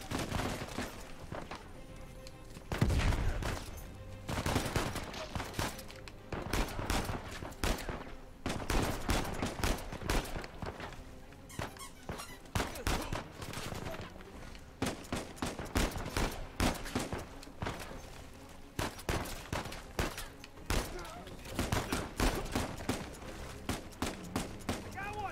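Sustained gunfire in the Uncharted 4 video game, dense bursts of shots and rapid automatic fire continuing steadily throughout, loud and busy, with someone talking over the action.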